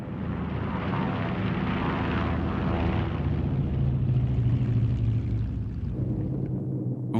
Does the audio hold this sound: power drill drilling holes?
no